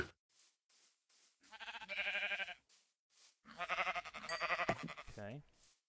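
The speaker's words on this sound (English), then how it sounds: "Yep, there's some more sheep right there as well." Blocky Minecraft sheep from the GregTech New Horizons modpack bleat in two long, wavering bursts, close and fairly loud, separated by short gaps filled with soft clicks.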